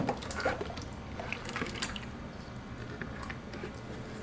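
Wet liquid concrete drips and oozes into a mold, a close, continuous squishing, spattering wash with small irregular plops and splashes, fairly quiet and without speech.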